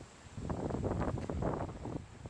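Wind gusting across an open spot on the Appalachian Trail, a short burst of breathy rushing and microphone buffeting, fairly close, with no talking.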